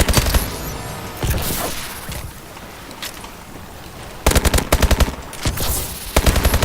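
Rapid automatic gunfire from Call of Duty: Advanced Warfare comes in loud bursts of fast, evenly spaced shots separated by brief lulls, sounding close and dominant.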